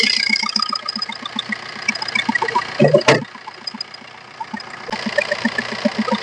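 A Maruti Ertiga diesel engine idles steadily with a low, even rumble, briefly interrupted by a louder mechanical burst before the idle continues.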